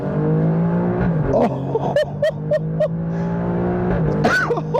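Alfa Romeo Stelvio Quadrifoglio's Ferrari-derived engine pulls hard through quick 8-speed automatic upshifts, a strong steady drone broken by several sharp shift blips, with a brief exclamation from the driver.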